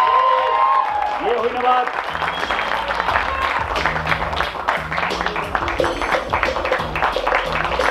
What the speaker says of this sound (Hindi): हम एक जोरदार तालियों से स्वागत करें